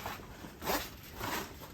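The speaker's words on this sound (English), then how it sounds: "So we do the zips up" Tent annex zipper being drawn closed on a StarVision CX3 Pro camping annex, two or three close, scratchy zipping strokes in quick succession with no talk.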